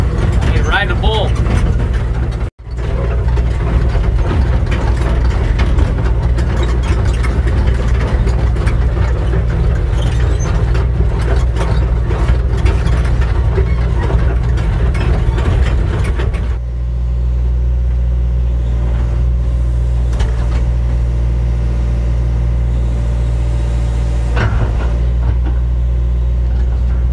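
A field excavator's diesel engine rumbles steadily up close, loud and continuous, with a brief dropout and then a quieter, lower idle toward the end; no talk is heard.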